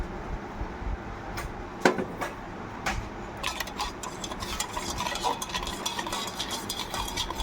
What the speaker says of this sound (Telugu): మొత్తం అన్నీ మిక్స్ అయ్యే వరకు బాగా నీట్గా కలుపుకోవాలి.